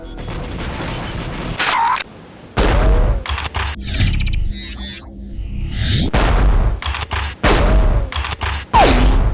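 Shotguns firing in a first-person shooter video game: a series of loud, booming blasts with pump and reload clacks between shots, close and dense, with no talk.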